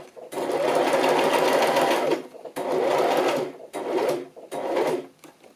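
A sewing machine stitches a pocket onto a paper journal card in four close, steady bursts of rapid whirring, the pauses between them short and quiet.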